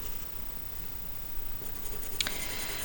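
A graphite pencil scratches and rubs across paper in close, steady shading strokes, with a brief sharper tap near the end.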